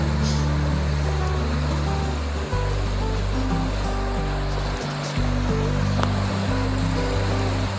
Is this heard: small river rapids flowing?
yes